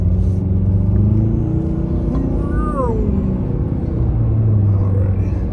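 A car drives along a road at night, its engine and tyre rumble steady and close throughout, with a brief rising whine partway through.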